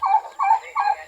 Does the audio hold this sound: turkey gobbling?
yes